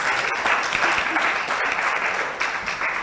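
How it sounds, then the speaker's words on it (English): Lively applause from a crowd at a feminist forum in Ghana, continuous dense clapping that holds steady and fairly loud throughout the short stretch. "I think that deserves a bigger one of applause"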